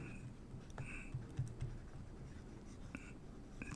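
Faint marker or chalk strokes on a board during a math lecture, a few short scratchy squeaks and taps in a quiet room with no talking.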